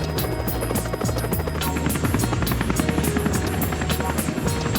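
Police air support helicopter Yankee 99 comes in to land for refuelling. Its rotors give a loud, steady, close thudding drone with a rapid beat, and no one speaks.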